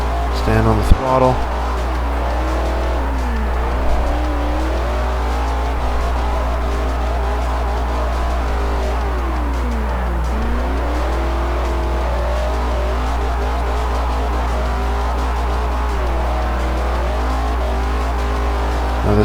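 A Chevrolet Camaro in Forza 4 revs hard at full throttle, its loud engine note rising and falling steadily through the gears, with tires squealing and a voice talking over it.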